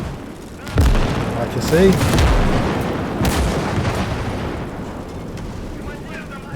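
Big explosions and artillery in the WWII strategy game Gates of Hell, heavy booms and rumbling blasts rolling over several seconds, with someone talking over the battle.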